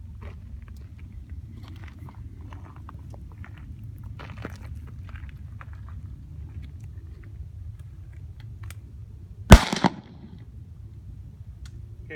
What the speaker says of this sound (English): our sniper just took a shot